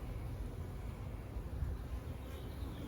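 A steady, low insect buzz drones on without a break, the soft hum of several honeybees close by at an open hive, with no voices.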